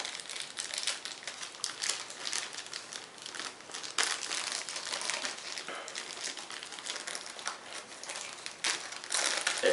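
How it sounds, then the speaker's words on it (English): A plastic packaging bag for a Figma figure being ripped and crumpled open, continuous close crinkling and tearing rustles that keep going for nearly ten seconds with no speech. "this bag, I guess I'll have to rip this one open"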